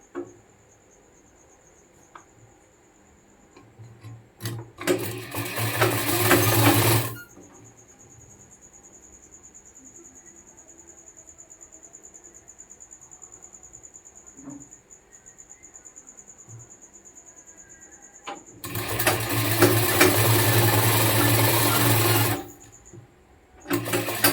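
A sewing machine stitches a shirt in two loud, steady whirring bursts of a few seconds each, separated by a quieter stretch with a faint high hum, close by and without speech.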